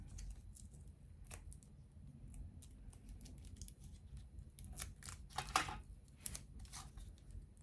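Scissors snipping through paper and card while a paper Mexican-style dress is trimmed, with scattered crisp cuts and rustles, quiet and close, most dense toward the end.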